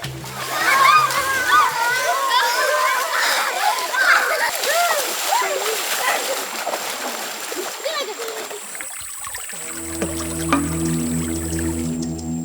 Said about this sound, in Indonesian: Mandi dengan air kecoklatan tanpa peralatan mandi adalah satu-satunya cara bagi mereka untuk bersih-bersih setiap harinya.